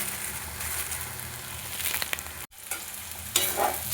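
Ground coriander, cumin and a little Kashmiri chili powder fry in hot oil over lowered heat for a cauliflower curry, a steady close sizzle with stirring scrapes and a brief dropout midway.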